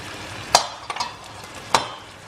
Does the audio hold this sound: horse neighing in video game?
no